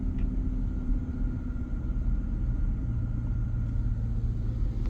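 Car driving through a residential neighborhood of big mansions in Minnetonka, giving a steady, fairly quiet low rumble of engine and tire noise on smooth pavement, continuous with no talking.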